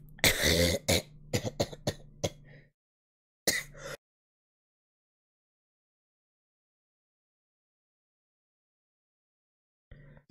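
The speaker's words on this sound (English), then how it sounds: "Trying to do a bit caused me to actually start coughing." A burst of harsh coughing and throat clearing, close and loud, then a single short cough a moment later, followed by long silence and a faint final cough.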